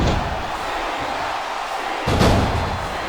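Wrestling arena crowd at a WWE Backlash event, a steady broadband roar of fans that swells louder about two-thirds through with a brief surge of cheering, continuous and fairly close.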